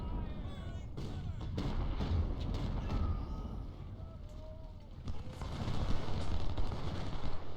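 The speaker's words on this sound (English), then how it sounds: "Okay, we've got gunfire going on." Sharp bursts of gunfire and heavy artillery thuds crack repeatedly over a rumbling battlefield in the video game Ultimate General: Civil War, Second Bull Run, some distant, building to a denser barrage toward the end.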